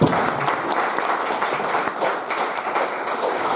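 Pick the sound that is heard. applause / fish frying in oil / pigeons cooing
applause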